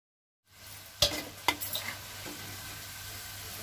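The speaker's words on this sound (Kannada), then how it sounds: "ನಾನೀಗ ರೆಡಿ ಮಾಡ್ಕೊಂಡಿದ್ದಂಥ ಕೋಡ್ಬಳೆನ ಒಂದೊಂದಾಗಿ ಹಾಕ್ತಾ ಇದ್ದೀನಿ." Onion kodubale, ring-shaped dough snacks, dropped one by one into hot oil, producing a steady soft sizzle with a few sharp splashy bursts as pieces go in, after a brief silent start.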